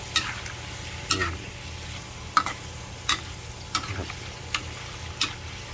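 Catfish pieces frying in a pan of oil for a crispy stir-fried dish, a steady low sizzle broken by sharp clicks and scrapes of a utensil stirring at irregular intervals, close by and with no voices.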